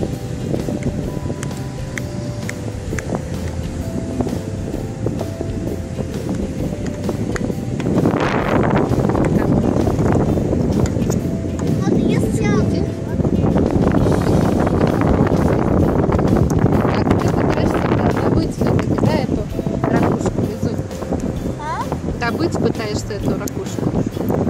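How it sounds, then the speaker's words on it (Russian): Gusty wind at the seashore buffets the microphone in a steady broadband roar that swells louder midway, with voices talking underneath. "Сейчас уже немножко ветрено."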